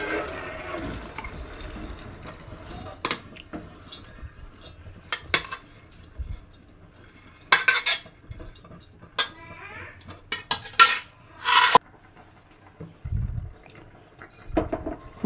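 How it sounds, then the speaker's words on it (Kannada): Pressure-cooked horse gram is transferred into a cooking pot with scattered clinks and scrapes of a metal utensil against the vessel, some sharp and close, separated by quieter gaps. "ಅದನ್ನು ಒಂದು ನೋಡಿ ಈ ಥರ ಪಾತ್ರೆಗೆ ಹಾಕ್ಕೊತಾ ಇದ್ದೀನಿ"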